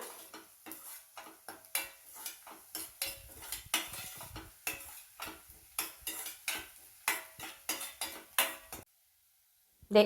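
A spoon scrapes and taps rhythmically against a pan as onion, coconut, curry leaves and ginger are stirred, a string of close, regular strokes that stops abruptly into near silence before a final faint clink.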